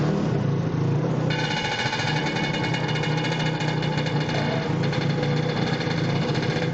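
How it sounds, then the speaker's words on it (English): Loud, continuous engine roar with a rough mechanical rattle and steady droning tone, as several powerful race car engines fire up together at a racetrack. "by the sounds of the engines firing up there"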